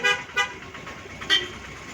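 Three short car horn toots, evenly spaced across two seconds, fairly close and loud over faint traffic noise.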